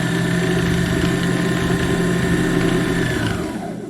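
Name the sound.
Husqvarna Viking 5610 sewing machine winding bobbin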